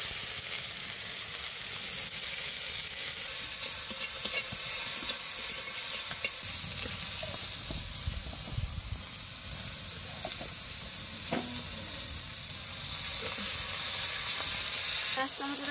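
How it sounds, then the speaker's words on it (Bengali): Chopped onion and tomato frying in hot oil, a steady close sizzle and hiss with occasional stirring clatter throughout. "সেই তেলে কেটে রাখা পেঁয়াজ আর টমেটো দিয়ে দিব।"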